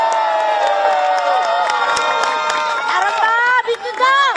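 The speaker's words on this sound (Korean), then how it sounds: "잘했다면 여러분 환호와 박수" Loud, dense crowd cheering with scattered whoops fills a political rally, sustained throughout with shouted voices layered in and a brief dip near the end before swelling again.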